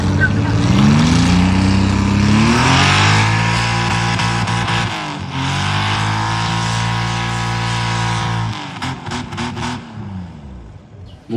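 A Jaguar V12 tractor-pulling engine roars at full throttle, its pitch climbing and holding high for several seconds, then stutters and pops as it comes off the limiter.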